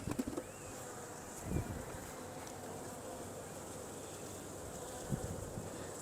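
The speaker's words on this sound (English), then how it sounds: "there's so many bees" A honey bee swarm hums steadily while being settled into a hive, with a constant buzzing drone and a few soft knocks from frames.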